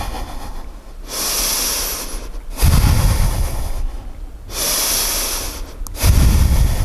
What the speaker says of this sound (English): Take 5 big breaths.